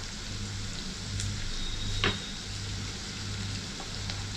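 Onions with a pinch of salt sauté gently in a pan, giving a steady soft sizzle with a brief stirring scrape partway through, no talking.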